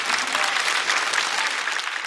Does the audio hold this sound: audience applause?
yes